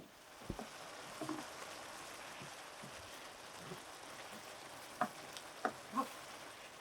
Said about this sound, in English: we're going to maintain the boil just for a few minutes, not many